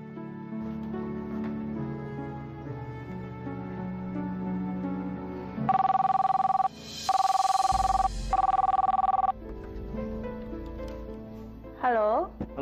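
A telephone rings in a domestic setting in three loud, even electronic trilling bursts that cut through quieter background music, followed by a short electronic tone.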